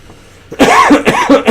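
A person coughs several times in quick succession after a brief quiet moment, loud and very close, the harsh bursts coming in a tight rhythmic cluster.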